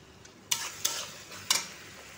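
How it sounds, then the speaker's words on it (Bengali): Chopped tomatoes frying in a spice masala for garlic chicken karahi, a soft steady sizzle punctuated by three sharp spatula scrapes against the pan, with no talking. "এরপরে অ্যাড করে দিচ্ছি কেটে রাখা টমেটো"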